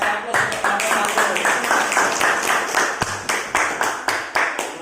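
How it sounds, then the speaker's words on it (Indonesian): Classroom applause for a student group, a steady run of rapid clapping from many hands lasting several seconds, fairly loud and close with a rhythmic pulse throughout. "kasih aplaus untuk kelompok"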